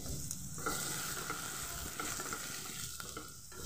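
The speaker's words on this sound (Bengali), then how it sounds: "পেঁয়াজটাকে ভেজে নেব ভালোভাবে।" Two thinly sliced onions fry in two tablespoons of oil in a kadai, giving a steady, soft, hissing sizzle with faint stirring scrapes now and then and no speech.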